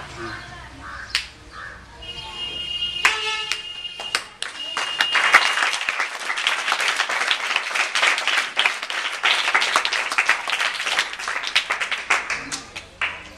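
Audience at a school function claps for prize winners; scattered sharp claps build into steady, fairly loud applause from a crowd, with a few birds calling early on and brief voices under it.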